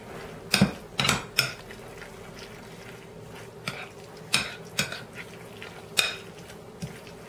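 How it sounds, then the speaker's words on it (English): Ingredients tossed and stirred together in a pan, a utensil striking the metal in sharp scattered clinks and scrapes over a faint background hiss. "Just keep stirring."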